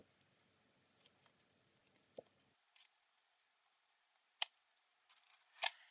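Scissors trimming casing material on a cocktail item, a few sparse, faint snips and clicks spaced apart in an otherwise quiet room.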